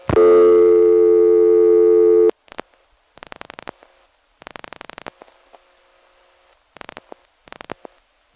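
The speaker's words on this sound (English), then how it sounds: "that sounds so close to the original CDO busy signal" Steady tone from a CDO telephone exchange busy signal, reached through an N1 carrier from a Mamaroneck, NY #5 crossbar, sounds for about two seconds, then gives way to sparse clicks and faint line noise.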